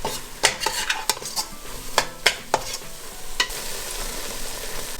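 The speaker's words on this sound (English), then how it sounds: "So you can hear the sizzling." Irregular scraping and clinking of a utensil stirring chickpea flour for mohanthal in a hot pan, over a soft continuous sizzle, close by, with the stove off.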